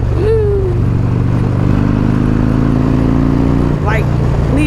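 A Harley-Davidson Road Glide with a Stage 2 upgrade roars loudly on the road, its engine revving up under the throttle as a rider's voice talks over the rumble and wind.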